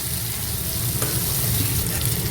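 Finely chopped ginger sautés in a pan for saffron rice, a steady close sizzle and crackle of frying with a faint stirring scrape, no voices.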